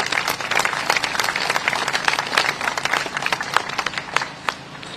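An audience at a Commonwealth Day ceremony gives a round of applause, lively uneven clapping with distinct sharp claps that carries on for a few seconds and then begins to taper.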